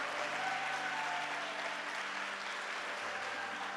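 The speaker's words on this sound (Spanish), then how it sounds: "Dale un fuerte aplauso al Señor." A church congregation applauds in a steady, dense burst of clapping that fills the space at an even level throughout, with no voices over it.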